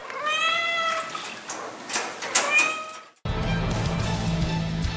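A pet cat meowing close by, several drawn-out, rising and falling meows in a row over quiet room tone, ending abruptly as a different, busier background takes over.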